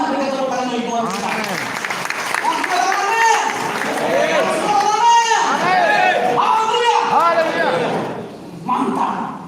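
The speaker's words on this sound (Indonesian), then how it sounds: "Berikan tepuk tangan bagi Tuhan kita." Church audience applauding during a pastor's sermon, clapping mixed with loud shouting, cheering voices and crowd noise that fades near the end.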